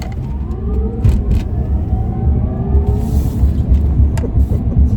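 Tesla Cybertruck accelerating hard to about 60 mph, a steady electric drive whine rising through the run with road and tyre roar underneath, loud and close from inside the cabin, with no talk.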